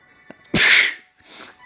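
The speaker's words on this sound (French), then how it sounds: "Je pense que c'est la première fois que j'ai éternué en vidéo." A single loud, close sneeze from a man bursts out sharply, followed by a softer breathy exhale.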